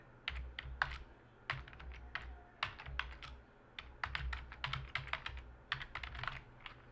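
Someone types on a computer keyboard while coding in Visual Studio Code: quiet, irregular bursts of key clicks, close and soft, with no talking.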